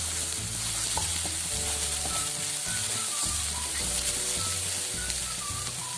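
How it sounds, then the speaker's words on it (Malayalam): Roasted semiya being stirred with grated coconut in a hot pan, a steady sizzle with scraping spatula strokes, close and continuous, with background music and no talking. "അതിലോട്ടേക്ക് ചിരകി വെച്ചിരിക്കുന്ന തേങ്ങ ഇട്ട് കൊടുക്കാം. നല്ലോണം ഒന്ന് മിക്സ് ചെയ്യാം."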